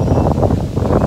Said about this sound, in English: Sorry, I know it's really windy.